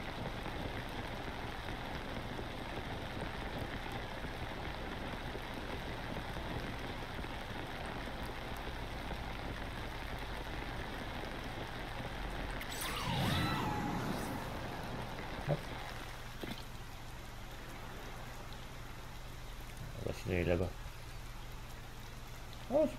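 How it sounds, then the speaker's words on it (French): Rain in the video game Zelda: Tears of the Kingdom, a steady soft hiss of falling rain running throughout, with a brief louder whoosh midway and a few faint knocks near the end. "Je suis embêté parce qu'il pleut."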